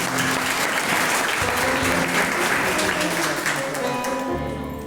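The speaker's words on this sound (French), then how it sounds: "je vous demande de vous applaudir chaudement," A church congregation claps warmly during a service, loud and sustained applause filling the room with some sustained tones beneath, tapering slightly at the end.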